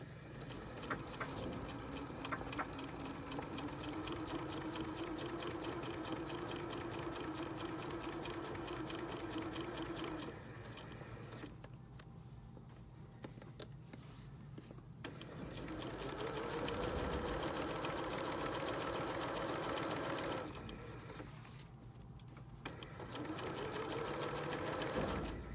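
Sewing machine stitching a bustier and bra cup foundation, running steadily with a rapid mechanical whir and needle patter, pausing twice briefly and restarting, close and alone.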